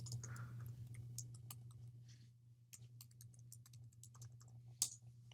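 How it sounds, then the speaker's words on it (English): Soft, quiet clicking of a computer keyboard being typed on in irregular bursts, with a steady low electrical hum underneath and no talking. "I am just typing."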